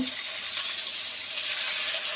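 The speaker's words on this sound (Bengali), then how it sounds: "আমার কাতলা মাছের, ছোট্ট কাতলা মাছের মাথাটা ভাজা হচ্ছে" A small katla fish head fries in hot oil in a pan, giving a loud, steady, close sizzle that crackles without pause from start to finish.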